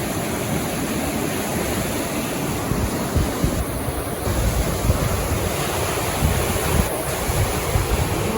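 Floodwater from Hurricane Fiona rushes steadily outside an old house and drains down into a hole, making a loud, continuous roar and wash with bursts of wind buffeting the microphone.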